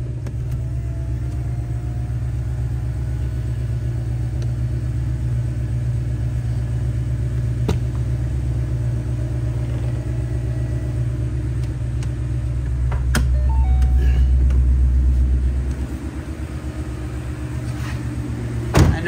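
A 2014 Ford Mustang GT Premium convertible Boss 302 clone idles with a steady, close, low V8 rumble that swells briefly before settling back to an even idle.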